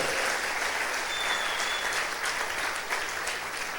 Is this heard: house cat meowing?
no